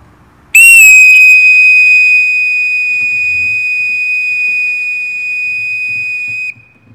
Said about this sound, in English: The first sound, starting by holding the bosun's call in the proper manner,